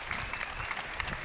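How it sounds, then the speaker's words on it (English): Brief, faint round of audience applause at the Bitcoin 2024 conference in Nashville as a session closes, a soft steady patter of clapping heard from a distance. "Please, a warm round of applause."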